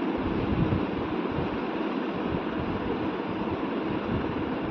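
A pressure cooker lets off its second whistle as a steady, loud, unbroken rush of steam while potato dum biryani cooks over high flame. The hiss holds the whole time with no voices.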